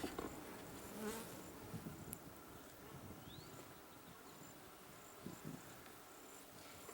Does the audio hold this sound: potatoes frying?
no